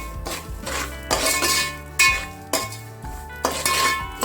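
A spoon scrapes and clinks against a pan while poppy seeds fry in ghee for dry fruit laddu, in repeated close stirring strokes over a steady tonal background.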